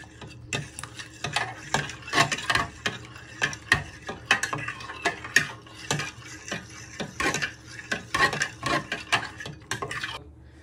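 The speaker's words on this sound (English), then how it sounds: "Give this a good stir for a minute or two." A spoon scrapes and knocks rhythmically through a chilli pork casserole in a pan. The clattering strokes repeat at an uneven pace over a soft sizzle, close by and moderately loud.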